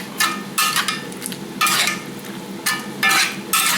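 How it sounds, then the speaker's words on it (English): A pot of hot and spicy pepper steak gravy bubbles and sizzles while a spoon stirs it in repeated scraping strokes, several rhythmic bursts over a steady boil, close up with no talk. "Okay, you can see the gravy boiling. Just go ahead and mix it."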